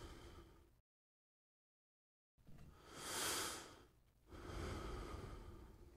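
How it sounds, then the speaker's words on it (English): Heavy, slow breaths from a player, with a loud hissing exhale and steady rough inhales after a short silence, close and faint, with no talking. "Can you stop breathing so heavily?"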